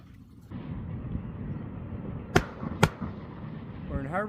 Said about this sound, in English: they're having a fireworks display for us